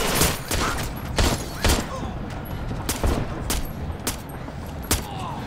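Rifle gunfire from the Splinter Cell Blacklist video game rings out as loud, sharp shots in a quick irregular series over a dense background of game sound.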